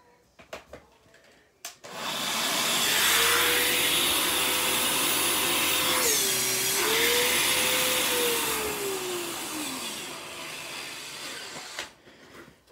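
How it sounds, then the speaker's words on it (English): A central vacuum system with a Kenmore attachment powers up after a brief clatter, then roars with a loud, steady whine that dips in pitch midway before winding down near the end, with no talking. "This thing's more powerful than any vacuum I currently have for sale."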